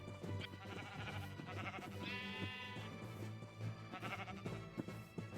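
Sheep in Minecraft give a brief bleat midway through, set among busy game sounds and quiet background noise.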